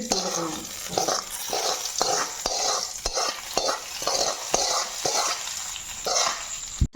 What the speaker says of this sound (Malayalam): ചെറുതായിട്ടൊന്ന് ഇളക്കിക്കൂടി